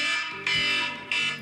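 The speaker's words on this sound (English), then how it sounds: "I hate this alarm, damn it." A morning alarm blares in harsh, loud repeating bursts, two long electronic buzzing tones with a short gap between them and no voices.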